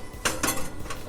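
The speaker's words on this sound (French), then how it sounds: "je vais sortir le gratin du four parce qu'il est prêt" A baking dish of gratin lifted out of a kitchen oven, giving a few clinking, clattering knocks of dish against oven rack, close and moderately loud with no talk.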